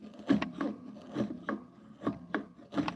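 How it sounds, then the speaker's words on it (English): A chisel pares tough wood with its flat side riding the edge, giving short rasping scrapes at an uneven pace of about two per second, close and quiet with no talking. "I'm gonna just kind of use the flat side of the chisel and ride the edge of that."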